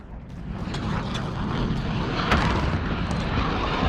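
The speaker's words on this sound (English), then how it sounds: "Friendly VTOL on station for Overwatch." A VTOL aircraft drones overhead in Call of Duty: Modern Warfare, a steady broadband engine roar with mechanical rattling and creaking layered throughout, no speech.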